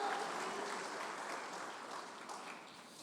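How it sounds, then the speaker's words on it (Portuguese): Congregation applause during a church service, a soft, steady wash of many hands clapping, fairly distant and faint, gradually easing. "As palmas para o Senhor"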